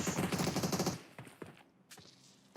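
Uzi submachine gun in the PUBG Mobile battle royale game firing a rapid automatic burst for about a second, loud and close, followed by a few scattered shots and faint footsteps.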